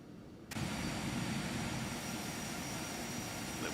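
An Aerobask Phenom 300 business jet taxis into a hangar in X-Plane 11. Its engine roar cuts in abruptly and then holds as a steady, loud whine and rumble.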